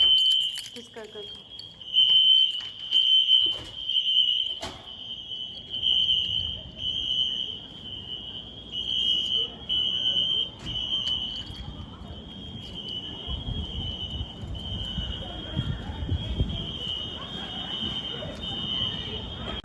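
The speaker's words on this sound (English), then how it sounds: "the alarm goes off on the building and it's so loud that you have to get out" A building fire alarm sounds a loud, continuous high-pitched tone that cuts in and out in steady bursts, with clattering noises and people talking nearby.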